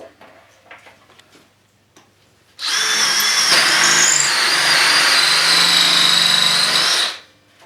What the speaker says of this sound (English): So we're going to drill a hole halfway through here with the hole saw.